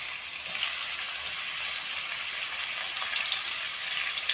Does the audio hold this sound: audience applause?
no